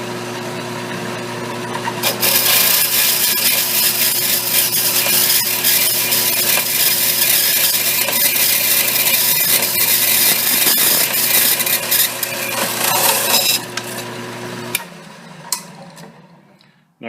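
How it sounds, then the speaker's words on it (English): Bandsaw cutting through a workpiece for long, steady, loud seconds while its arm is lowered slowly by hand, the blade rasping evenly over a constant motor hum before the cut ends with a few clicks and the motor winds down. "I'm actually holding the arm of the bandsaw by hand and just lowering it manually so I have control"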